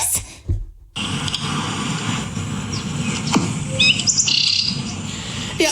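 A person imitates birds with a run of loud, close chirps, tweets and squeaky whistles that come in varied bursts after a brief pause at the start.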